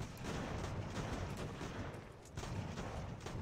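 Musket volleys crackle in Ultimate General: American Revolution as an American company duels British troops. The shots pop in dense, continuous bursts over a low battle rumble, steady throughout with a brief lull in the middle.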